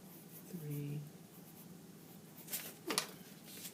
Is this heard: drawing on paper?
yes